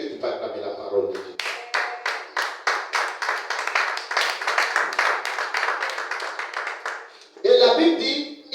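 Congregation at a church sermon claps in a steady, fast rhythm, loud and close, for about six seconds, then breaks into cheering voices at the end.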